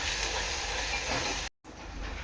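Ground ginger, garlic and coconut spice paste hitting hot oil gives a loud, steady hiss that runs unbroken for about a second and a half. It stops abruptly, then returns slightly softer.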